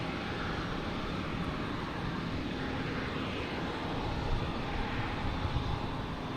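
A JetBlue airliner in special tribute livery moves at Boston Logan Airport, producing a steady, distant engine rumble and hiss that stays even throughout with no talking.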